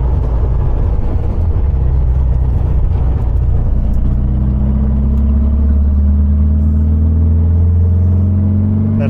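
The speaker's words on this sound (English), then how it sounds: "Let's let it rev out." A 1974 VW Super Beetle with a 1915cc engine revs hard on a drive, its loud, close engine note climbing steadily in pitch over a continuous deep rumble with no talking.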